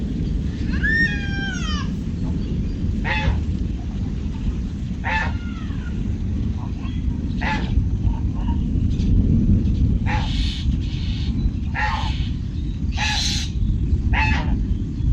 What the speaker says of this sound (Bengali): মেঘের গর্জন